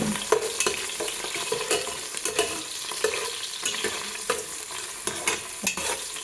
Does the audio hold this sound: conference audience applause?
no